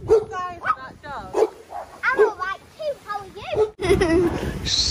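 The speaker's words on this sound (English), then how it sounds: "Have you seen the size of that dog?" A large dog barks and yips repeatedly close to the mic at a family backyard barbecue, with people talking in between.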